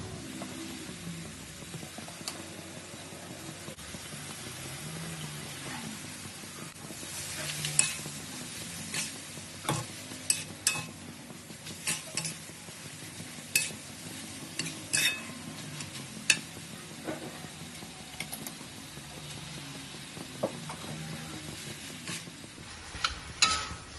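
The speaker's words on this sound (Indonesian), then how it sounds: "Kita goreng sampai nasinya matang dan kecampur rata semua dengan bumbu." Rice and noni leaves stir-fried in a pan for nasi goreng make a soft continuous sizzle, broken by frequent sharp scrapes and clinks of a spatula stirring against the pan, with no talking.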